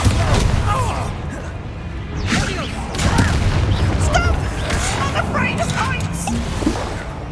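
Bombarda explosion spells in Hogwarts Legacy on PS5 go off as heavy booming blasts with crashing debris, several bursts layered with dense combat noise and a voice over the top.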